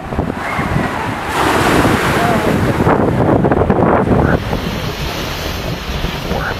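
Storm Kathleen lashing a UK coast: strong wind buffeting the microphone over heavy, crashing surf, loud and continuous with surging bursts of breaking waves.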